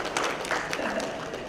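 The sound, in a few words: audience clapping for school children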